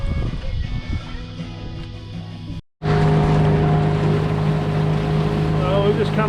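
A motorboat idles and manoeuvres while docking at a boat ramp, a steady droning engine hum with tonal whine, broken briefly by a short cut-out before the motor noise resumes louder.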